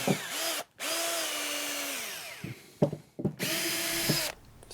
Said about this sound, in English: So the first step is to make a hole for inserting later on the screw.